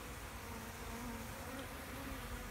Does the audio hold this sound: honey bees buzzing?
yes